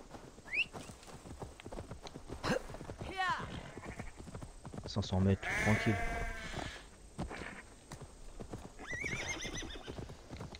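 Horse neighing and hoof clip-clop from the video game Assassin's Creed Valhalla, with a whinny rising mid-clip over steady game ambience while someone talks throughout.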